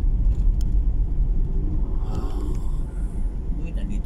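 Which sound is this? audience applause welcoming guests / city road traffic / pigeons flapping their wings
city road traffic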